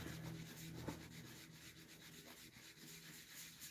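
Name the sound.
feather sanding wood by hand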